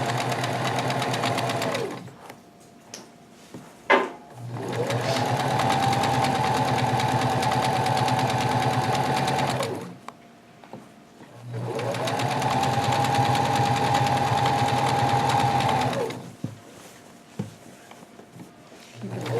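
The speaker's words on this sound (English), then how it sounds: "Keep the fabric nice and flat while you're sewing." A sewing machine stitches a pajama pants seam in two long runs of steady mechanical whirring, each rising briefly in pitch, separated by quiet gaps with small handling clicks; close and clear.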